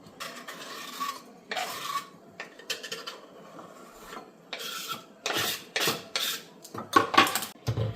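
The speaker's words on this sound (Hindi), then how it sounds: "बट ये मैं महीन काट रही हूँ क्योंकि सबको ऐसा लहसुन पसंद नहीं है।" Garlic is chopped finely with a knife on a board for a winter saag, giving bursts of quick rapid knife taps and scraping strokes separated by short pauses, close and moderately loud, with no voices.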